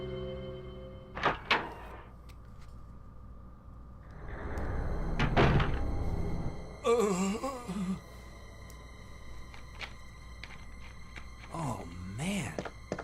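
A door opens in the Resident Evil 2 police station with a couple of heavy thunks and a creaking swing, followed by faint game sounds and a voice.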